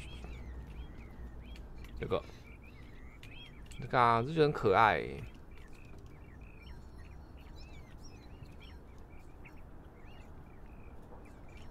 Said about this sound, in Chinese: 一堆鸟叫声是因为这边吵死了，啾啾啾啾啾啾啾啾啾啾啾